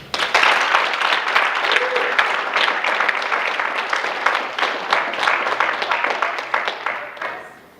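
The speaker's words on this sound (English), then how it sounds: "You can clap now." Sustained audience applause at the close of a talk at a foster youth conference, a dense crowd of hands clapping steadily for several seconds before tapering off at the end.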